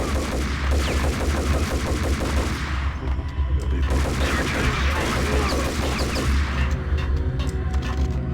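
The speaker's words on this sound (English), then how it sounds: "He arrives at the factory and guns down a whole lot of mercenaries" Rapid gunfire from the Max Payne video game as mercenaries are gunned down in a factory: dense, loud bursts of overlapping automatic shots and booms, with a short lull near the middle before the shooting picks up again.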